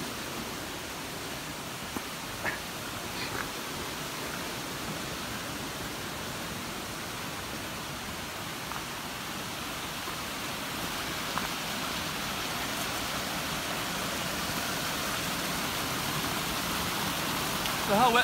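Steady rushing of water flowing along the Appalachian Trail in Virginia, a continuous broadband wash heard close and fairly loud throughout, with a few faint footsteps or knocks.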